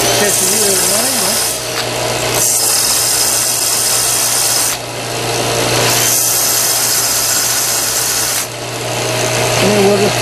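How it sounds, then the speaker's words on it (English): A belt sander grinding an angled lead onto a cut-off bolt end, a loud, continuous close-up whine and rasp that swells and dips as the metal is pressed on and eased off. "Take this belt sander. Then we'll just catch it here at an angle."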